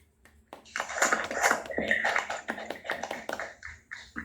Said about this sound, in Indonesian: Kasih tepuk tangan untuk Muhammad Hendrik dan Tami